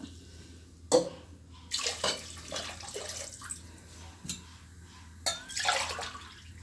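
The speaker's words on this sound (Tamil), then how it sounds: "அரைக்காப்படி அரிசிக்கு முக்காப்படி தண்ணி ஊற்றணும்" Water pours and splashes into a pot of rice in short bursts, with a few separate gushes and trickles close by; no talking.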